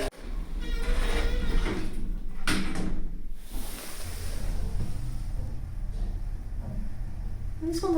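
Lift doors sliding open and closed at the second floor of a building in Sutton, London, a loud rumbling whoosh with mechanical clunks, close by, over steady machine hum.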